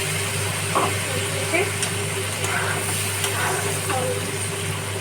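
Raw potatoes fry with spices in a little water and oil in a pan for koi fish curry with tomato, giving a constant hiss and occasional faint stirring scrapes beneath a steady low hum.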